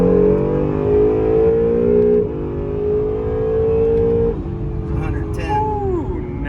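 An Acura NSX with a straight pipe exhaust drives under load, its loud engine droning and rising through gear changes with a steady harmonic pitch that drops at each shift, heard from inside the car.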